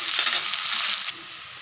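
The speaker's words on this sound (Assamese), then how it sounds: "এতিয়া পিঁয়াজখিনি ৰঙা হোৱাকৈ পূৰা ভাজিম।" Onions frying in a pan until browned for a potato and green pea curry, a steady close sizzle and crackle that drops to a quieter hiss partway through, with no talking.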